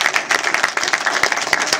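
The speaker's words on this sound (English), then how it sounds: "Another big round of applause for Lanita." Audience applause greets a volunteer at a business expo entertainment show, with dense, steady clapping from a crowd throughout.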